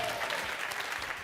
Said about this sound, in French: Merci, Cathy, que l'on applaudit.